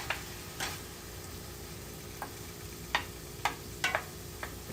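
A ramen stir fry sizzles in a pan, a steady soft frying hiss broken by several sharp ticks and scrapes, close up with no talking.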